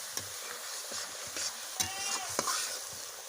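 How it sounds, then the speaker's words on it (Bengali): A spice paste is stirred and fried with a splash of water in a pan while making a banana flower kofta curry with cauliflower and potato: a steady close sizzle runs throughout, with repeated scraping stirs of a spoon against the pan. "হালকা হালকা জল দিয়ে মশলাগুলোকে এখন 5 মিনিট মতো কষাবো।"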